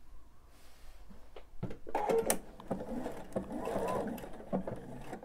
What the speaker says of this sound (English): I'm gonna sew these together with a quarter inch seam allowance